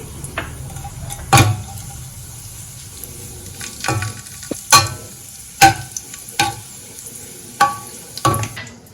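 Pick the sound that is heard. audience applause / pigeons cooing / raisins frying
raisins frying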